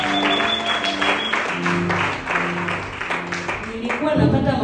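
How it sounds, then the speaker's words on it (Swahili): A church congregation claps for Jesus during a Swahili testimony. Steady applause fills the space, mixed with sustained musical tones and voices. "Yesu makofi"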